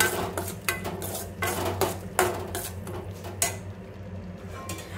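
Tomato curry being stirred and fried in a pan, with a run of quick scraping and clattering spoon strokes against the metal over a faint sizzle, close and busy, then easing off near the end.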